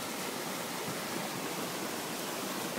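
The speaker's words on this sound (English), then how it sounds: "There's where the two creeks converge." Steady broadband rush of water where two creeks converge in a rainy backyard, running high after rain; continuous and fairly loud with no voices.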